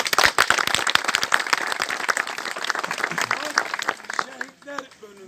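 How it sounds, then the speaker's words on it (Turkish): An audience at a memorial gathering bursts into dense, loud applause with many overlapping claps, which thins out toward the end as a voice begins speaking. "Alkışlayın."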